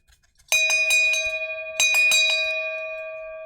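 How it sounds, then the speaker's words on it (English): A bright ringing bell struck two times in quick succession, each burst made of several rapid dings, with a long sustained tone trailing off clearly. "If you click that bell icon, Randy, what happens when I click the bell icon"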